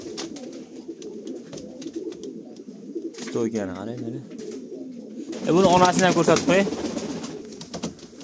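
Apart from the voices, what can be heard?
pigeons cooing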